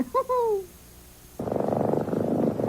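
A brief high meow-like cry, a pause, then a close, steady rhythmic purr with a soft pulsing rumble.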